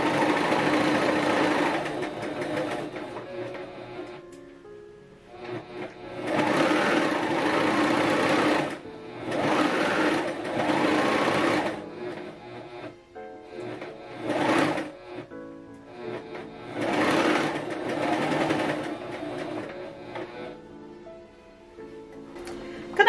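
A Pfaff Coverlock 4.0 stitches across knit fabric, a close whirring, rapid mechanical chatter that runs in repeated bursts of several seconds, with short quiet pauses between runs.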